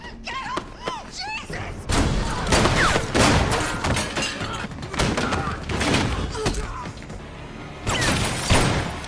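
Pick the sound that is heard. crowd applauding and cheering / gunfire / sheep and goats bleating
gunfire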